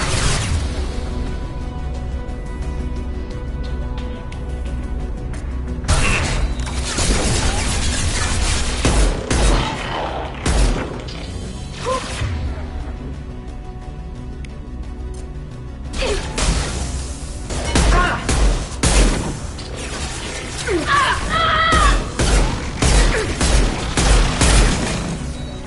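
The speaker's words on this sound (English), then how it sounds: "Taking heavy fire!" Heavy gunfire crackles through a Mass Effect firefight: repeated bursts and sharp impacts come in clusters, with booms and whooshes between them, loud and close over a rumbling battle background.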